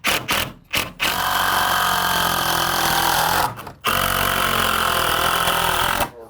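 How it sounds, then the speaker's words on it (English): A power drill or driver runs steadily, driving screws into a door jamb during an exterior home renovation; the loud, continuous whir stops briefly near the start and again around the middle, with no talking. "when you drive the screw, it'll pull it in tighter"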